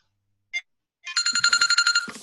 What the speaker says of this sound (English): my phone's ringing off the hook now